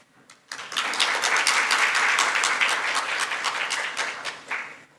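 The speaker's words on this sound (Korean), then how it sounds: "다시 한번 큰 박수 부탁드립니다" An audience at a water symposium breaks into sustained applause after a brief quiet moment, dense steady clapping that holds strong and begins to taper near the end.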